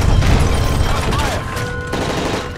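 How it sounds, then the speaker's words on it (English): Gunfire in the PS3 game Call of Duty Modern Warfare 3 during a hijacking attack on the president, a loud dense fusillade of rapid shots blending into a continuous roar, with shouted voices faintly mixed in. "That's gunfire!"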